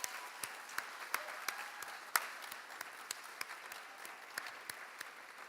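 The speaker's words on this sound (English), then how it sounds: "So if we can please give them a round of applause." At a high school athletic awards event, an audience gives a light, fairly distant round of applause, with scattered individual claps standing out sharply.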